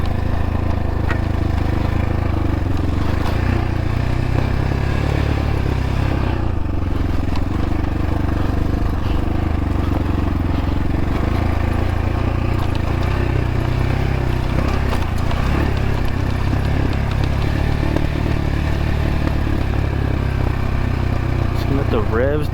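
Dirt bike engine riding through a desert canyon near Florence, Arizona, a steady close engine drone running the whole time with shifting revs and no pauses.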